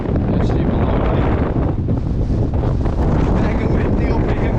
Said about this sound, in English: I can hear that wind now.